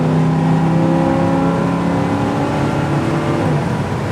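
1969 Chevy Nova accelerating hard, a loud continuous engine roar heard from inside the car, with the pitch sagging and climbing again around gear changes.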